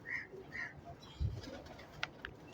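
Pigeons in a fancier's loft coo softly, with a few low murmuring coos and some faint higher chirps and rustles nearby, no talk over them.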